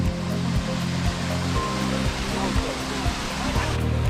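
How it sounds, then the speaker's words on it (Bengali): A small waterfall at Khoiyachora in Sitakunda, Chattogram, rushes in a steady, close wash of water, with a low, humming voice-like tone running beneath it. "এটা হচ্ছে একটা ছোট ঝর্ণা।"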